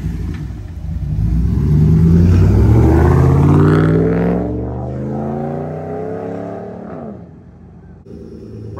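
A Ram 1500 V8 pickup with its muffler deleted revs hard nearby, a loud deep rumbling roar that climbs, holds, then winds down to a throaty idle.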